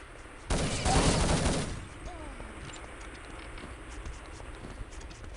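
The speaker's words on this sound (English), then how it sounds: "Swoon gets the Deagle kill at the end there" Rapid bursts of gunfire ring out during a Counter-Strike style esports match, a dense rattling volley lasting about a second before fading into softer background game noise and faint commentary.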